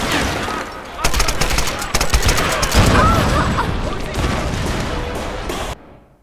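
Rapid bursts of AK rifle fire crackle in a battle in the video game Tomb Raider (2013), dense and loud over background music, ending abruptly near the close.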